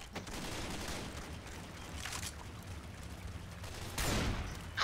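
Gunfire in the zombie shooter Left 4 Dead 2 during The Last Stand, heard as faint, rapid bursts of shots under game noise, with a louder burst near the end.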